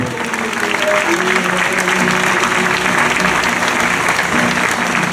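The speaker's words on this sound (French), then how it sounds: "Elle, on peut applaudir Clotilde Grand." Audience applauding after a reading at a cultural event, steady dense clapping throughout, loud and close with a faint crowd murmur underneath.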